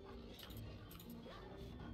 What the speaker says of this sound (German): Das sind diese wunderschönen Hunde aus der Zwischensequenz.